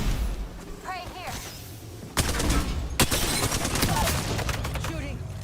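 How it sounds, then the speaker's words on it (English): Gunfire in the video game Apex Legends: after a quieter stretch with game sounds, a loud burst of rapid shots starts and keeps rattling to the end, with a heavy thump partway through. "Shooting."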